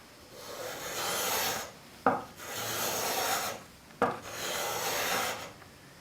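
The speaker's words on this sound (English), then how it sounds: "it's taking some pretty good shavings on the end grain" A spokeshave cuts shavings from wooden end grain in three raspy, scraping strokes, each a couple of seconds long and separated by brief pauses, close and fairly quiet.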